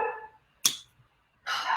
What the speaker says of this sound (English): My dogs. They're so crazy.